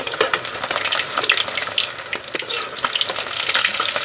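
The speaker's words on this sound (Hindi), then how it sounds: "तो दोस्तों पूरा फ्राई हो गया है" Fish fries in hot oil, a dense, loud, crackling sizzle that stays close and steady throughout, with bursts of spitting and no voices.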